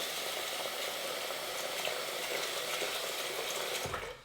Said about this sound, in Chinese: 在锅里加入450克米， 然后加入适量冷水